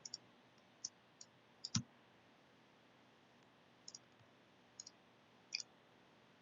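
Computer mouse clicking while working in Photoshop: a dozen or so sharp, isolated clicks at irregular intervals, some in quick pairs, faint and close against a quiet hiss with no talking.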